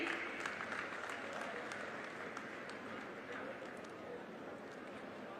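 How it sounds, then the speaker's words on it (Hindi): A crowd at an outdoor government ceremony in Amroha claps for a beneficiary of a housing scheme, a faint, distant wash of applause with sharper individual claps scattered through, under a public-address setting. "आप सभी की जोरदार तालियां बनी रहें।"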